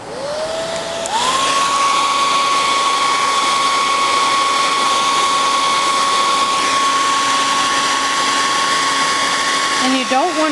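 A heat tool warming a stencil on an uneven surface starts with a rising whine and settles into a loud, steady blowing hum with a constant motor tone, dipping slightly near the end.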